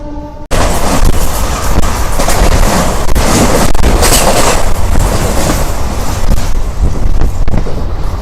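A MEMU express train on the Vijayawada–Tirupati run rolls along steadily, its loud, continuous rumble and rail clatter carrying on for several seconds with wind buffeting throughout and no talk.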